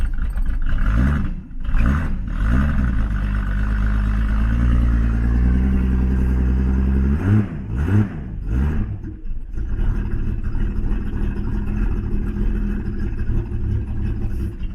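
A Datsun 240Z with an L28 engine and a newly fitted electronic ignition coil sits at a low idle after a week unused. It runs steadily and close by for the whole stretch, with some uneven revving near the start.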